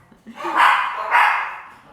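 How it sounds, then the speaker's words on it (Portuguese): A pack of house dogs barks in two loud, close bursts, the second following about half a second after the first, fading out afterward. "minha cachorrada parar de latir"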